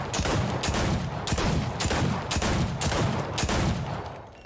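Rapid revolver fire in the Fortnite video game, a steady stream of loud, sharp gunshots repeating in quick succession for several seconds, close and dominant with no talking.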